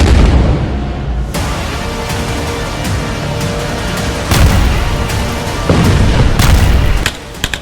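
Heavy booms and bursts of gunfire from rocket strikes in Gaza, with loud blasts around the second and a half mark, near the four-second mark and past five and a half seconds, over a constant rumbling din, no speech.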